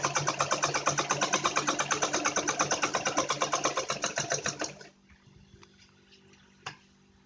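A sewing machine runs a fast, steady stitching rhythm while sewing a child's long gown, then stops abruptly near the end, leaving a quiet room with one faint click.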